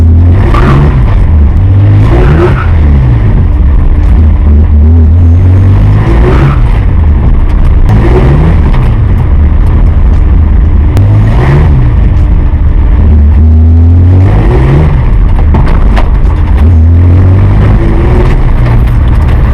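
A car converted to a Chevrolet V6 accelerates hard on the road, the engine roaring loudly through repeated rising revs and gear changes, close and dominant throughout.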